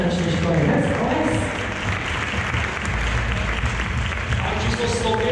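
An audience applauds dance couples at a dance competition final, sustained loud clapping from a crowd that fills the space, with an announcer's voice speaking over it.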